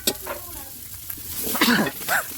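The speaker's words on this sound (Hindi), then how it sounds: "मसाला अच्छा से भूनेगा।" Masala for a home-style shukri jhilu being roasted in a pan, with a soft steady sizzle and a few brief scraping stirs that rise near the end.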